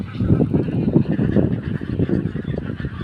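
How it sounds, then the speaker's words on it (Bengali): A flock of white ducks honks and quacks continuously, loud and close, with overlapping calls. "এখানে ঘুরতে আসছে কতগুলো হাঁস"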